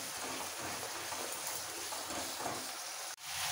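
Spices and katla fish sautéing in a pan with mustard-poppy paste and a pinch of turmeric, giving a steady, even sizzling hiss throughout that cuts off sharply near the end, then resumes.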